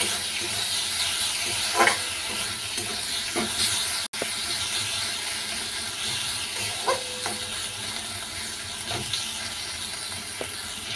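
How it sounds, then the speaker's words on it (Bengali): Spice masala of cumin powder and ginger-garlic paste frying in a pan with a splash of water added, giving a steady soft hiss with occasional small pops and clinks. "একটু জল দিয়েছি, দিয়ে ভালো করে মশলাটা কষিয়ে নিচ্ছি"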